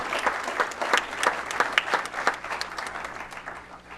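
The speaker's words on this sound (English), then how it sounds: "How about a great big round of applause for all of our spring sports winners" Steady round of applause from a banquet-hall audience honoring spring sports winners at a school sports banquet, many hands clapping continuously at moderate loudness.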